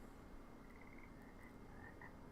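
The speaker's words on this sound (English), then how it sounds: "I hear the frogs." Frogs croak in a game scene from Nancy Drew: Haunting of Castle Malloy, a soft run of rhythmic croaks over a faint steady ambient bed, with no voices.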